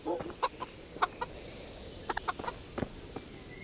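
Chickens in the video game Kingdom Come: Deliverance cluck in short, scattered bursts, several quick calls close together, faint and fairly near over a quiet background with no talk.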